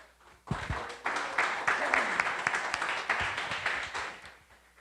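Church congregation applause bursts in after a quiet moment and keeps going steadily, dense clapping from many hands with a few sharper claps near the front.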